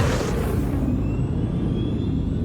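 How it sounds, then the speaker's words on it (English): Synthetic chambered exhaust note from a Fratsonic system on an electric muscle car, played through a speaker: a steady, loud low rumble with a whirring hum and faint rising whine, continuous throughout. "So the Fratsonic chambered exhaust."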